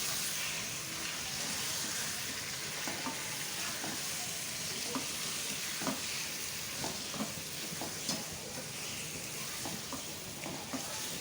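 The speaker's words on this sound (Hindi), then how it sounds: "ये भुनाई करें आलू के साथ।" Medium potatoes, cut in halves, fry in a pan for an aloo chicken curry. A constant, even sizzle runs underneath while a utensil stirs them with soft, scattered scrapes and taps. No one speaks.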